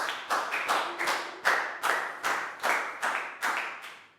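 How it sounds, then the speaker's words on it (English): A primary school class claps in a steady rhythmic pattern, about a dozen sharp, evenly spaced bursts of hand claps close by, with no talking. "Big round of applause for proud, guys."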